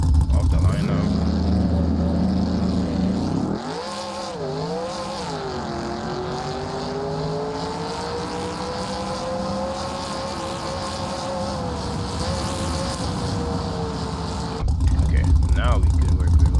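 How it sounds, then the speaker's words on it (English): A Chevrolet Monte Carlo does a burnout in the driving game BeamNG.Drive, its engine note rising and sweeping in pitch as the revs climb and hold, loud and sustained for most of the span. "Alright, a little better burnout."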